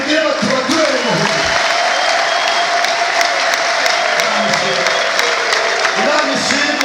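A church congregation applauds during a Kinyarwanda sermon, a dense, steady, loud wash of clapping that runs unbroken for several seconds, with a few voices mixed in.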